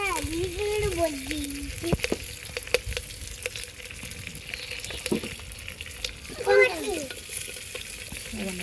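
Curry leaves and ginger frying in a pan, with sizzling and stirring scrapes across the clip and a louder burst of crackle near the end, while children chatter nearby.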